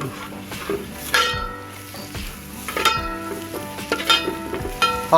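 Onions frying in oil in a pan for a Malayali crab roast, cooked outdoors in a forest, sizzling steadily with a spoon stirring and scraping against the pan, metal clinks coming through now and then.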